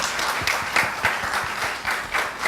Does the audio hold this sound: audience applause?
yes